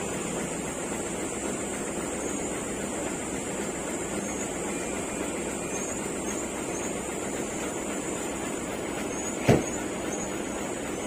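Heavy road traffic in Calauag, Quezon, with cars, trucks and buses bound for Manila, makes a steady engine drone throughout, broken near the end by one sharp, brief air-brake hiss.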